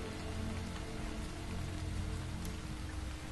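Steady rainfall in the video game Starbound, a dense, even hiss of drops pattering on surfaces, continuous and fairly soft with no talking.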